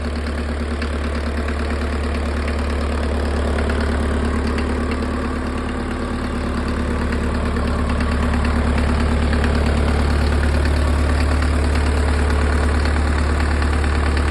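A Mercedes OM601 2.3-litre four-cylinder diesel engine driving an irrigation water pump idles steadily nearby, a loud, even mechanical drone with a low throb that holds for the whole stretch.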